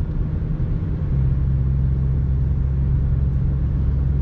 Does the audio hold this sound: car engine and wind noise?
yes